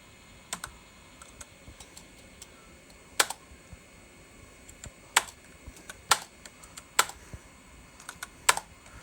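Keys clack on a 1987 Acer 500+ XT computer keyboard in sparse, irregular bursts, with sharp single presses and short clusters separated by pauses, close and clear over a faint background hum.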